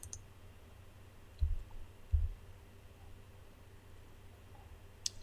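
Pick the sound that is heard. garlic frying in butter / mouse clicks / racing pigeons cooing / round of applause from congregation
mouse clicks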